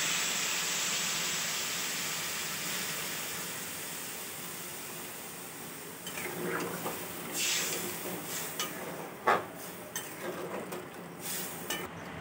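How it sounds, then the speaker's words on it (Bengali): Water poured into a pan of ridge gourd and prawn curry sets off a loud steamy sizzle that slowly dies down, followed by scattered clinks of a spoon against the pot. "এবার জল দিয়ে দেব।"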